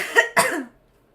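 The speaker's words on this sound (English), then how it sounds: "she just coughed so loud in your mic" Two loud, harsh coughs burst close into a microphone in quick succession, then fall quickly to silence.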